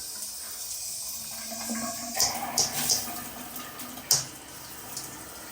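Water spraying from a MOEN HydroEnergetix 8-spray dual showerhead mounted on a tub wall, a steady hiss with a few brief spurts and splashes as the spray setting changes.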